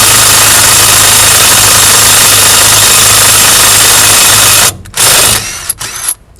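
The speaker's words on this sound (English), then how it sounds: "grabbed the old lug nut, and just zipping it onto the impact" Impact wrench zipping a lug nut onto a wheel stud on a hot rod Ford Torino, a loud, continuous close buzzing rattle that cuts off abruptly near the end, followed by a few short bursts.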